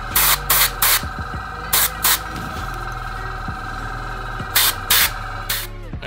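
An airbrush sprays paint onto a Slaanesh Daemonette miniature in loud, close hissing bursts. Short spurts repeat at irregular intervals over a steady hum from the compressor.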